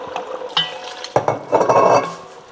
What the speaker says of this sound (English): And here it's sizzling.